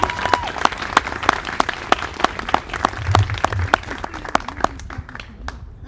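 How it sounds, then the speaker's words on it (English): A live science-talk audience claps for a departing speaker, a moderately sized crowd producing sparse, distinct handclaps that thin out and fade over about six seconds, with a faint voice briefly underneath. "let's give our speaker one last round of applause"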